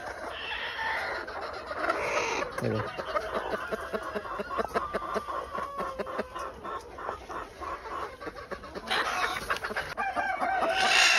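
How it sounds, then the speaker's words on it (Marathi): Desi village chickens on a poultry farm cluck and chatter steadily nearby, with scattered sharper calls and a busy, continuous henhouse murmur throughout. "तरी अशी खोड कोंबडी आहे हे बघा."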